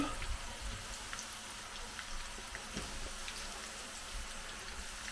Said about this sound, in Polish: Więc smażymy sobie to